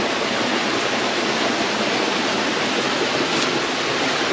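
Cold, clean water cascading down a waterfall near Hatton, a loud, steady, unbroken roar of falling water heard close up with no other sounds.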